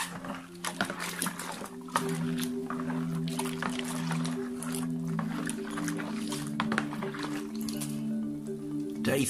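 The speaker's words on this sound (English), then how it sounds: "Day three, final stir" Rhubarb wine must is stirred in a fermenting bucket, giving soft wet sloshing, squelching and dripping sounds that continue steadily at close range.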